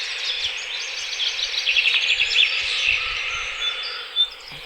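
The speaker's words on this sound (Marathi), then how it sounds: "ऐका गाईज, पक्ष्यांचा आवाज ऐका" Small birds chirp and twitter in a bright, busy chorus near a temple, moderately distant over a faint steady hum, without talking.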